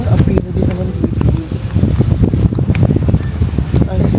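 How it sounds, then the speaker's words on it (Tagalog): Strong wind buffets the microphone at a Boracay beach, producing loud, gusty rumbling and rustling throughout, with someone talking over it. "Ang hangin dito."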